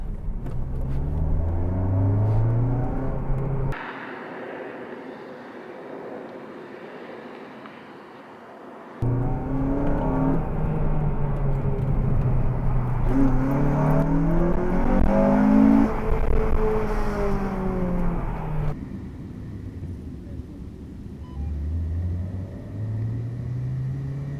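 A Honda Civic Type R or Suzuki Swift Sport hot hatch runs a hill climb course: a loud, close engine drone rises and falls through gear changes and revs, with a brief quieter stretch, and no talking.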